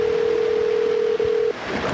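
Steady telephone dial tone on a call to Casey Brewery in El Waco, loud and continuous for about a second and a half with a brief dropout, then cutting off into faint background noise.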